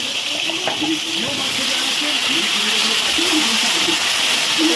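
Pointed gourd and potato pieces hit a hot pan and give a loud, continuous hissing sizzle that holds steady throughout, with faint murmuring underneath.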